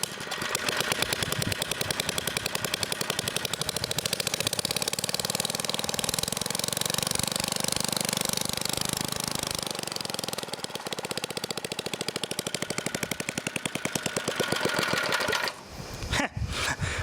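A restored Briggs & Stratton engine on a lawn edger runs steadily at a fast, rattling idle, close and loud throughout, then dips briefly near the end as it is cut with the kill switch.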